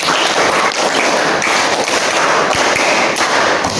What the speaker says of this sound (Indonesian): kurang kompak, 2 kali tepuk 5